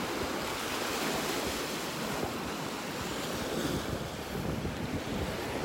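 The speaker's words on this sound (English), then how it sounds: "Maybe these waves will bring some nice shells up on shore." Ocean surf breaks steadily on a beach in North Naples, Florida, as the tide goes out, a continuous loud wash of waves mixed with wind buffeting the microphone, with no voices.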